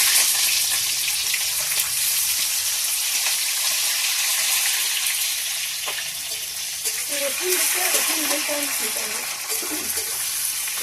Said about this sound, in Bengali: পেঁয়াজ আর রসুন গাছ দিয়ে দিলাম।